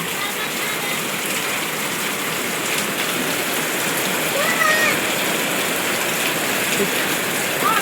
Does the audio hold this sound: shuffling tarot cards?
no